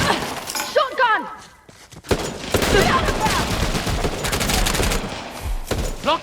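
Shotgun blasts and a clatter of gunfire ring out during a firefight in Uncharted: The Lost Legacy. Loud, dense bursts follow a short lull, layered with game music and shouting voices.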